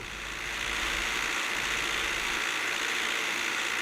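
A doubled train engine in the video game Forest Rail drones steadily, a dense, continuous rumble with a layered, overlapping tone that holds evenly throughout with no pauses.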